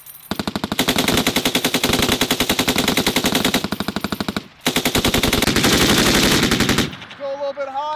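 An M240 or M249 light machine gun fires long sustained bursts during military live-fire training at a range near Mount Fuji, loud and close, with a brief pause between bursts and a voice at the end.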